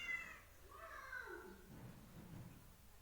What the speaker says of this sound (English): You just heard that. A meow.